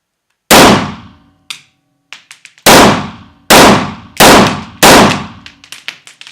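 Retay G17, a Glock copy pistol, firing full-load 9mm blanks: five or six sharp, loud reports in an uneven sequence, each followed by a short ringing decay. Lighter metallic clicks and clatter fill the gaps between shots.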